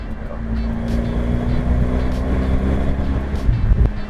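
An Alpina B7 driving in manual mode gives a steady, loud engine and road drone with wind rush, holding even throughout with a few brief bursts of noise on top.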